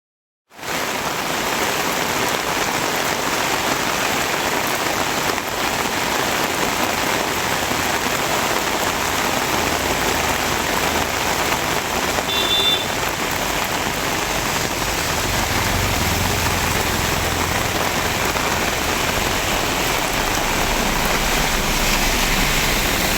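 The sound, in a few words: heavy rain falling in Chennai area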